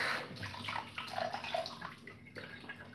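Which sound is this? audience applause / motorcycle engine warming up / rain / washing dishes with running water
washing dishes with running water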